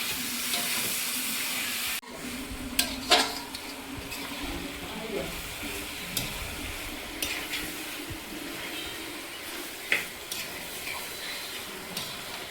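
Tomatoes stirred and fried in a pan with garden vegetables including cabbage, a loud hiss that cuts off abruptly, followed by softer sizzling with scattered scrapes and taps of a spoon, and a voice speaking in places.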